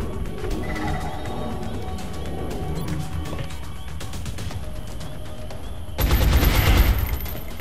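Gunfire in XCOM: Enemy Unknown/Enemy Within, a steady crackle of repeated shots under game ambience, ending in a louder burst of heavy fire near the end.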